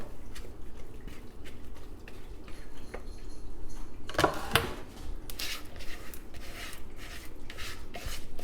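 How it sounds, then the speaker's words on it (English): Spatula scraping thick gluten-free bread batter from a bowl into a prepared loaf pan in a home kitchen, giving soft repeated rubbing and scraping strokes with a denser cluster of scrapes and taps near the middle, fairly quiet throughout. "Just use a spatula and scrape it all in."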